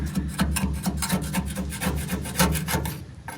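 Old sealer caulking is scraped and peeled off a 1972 Ford F100 truck in quick, rhythmic rasping strokes, close and fairly loud, about four per second.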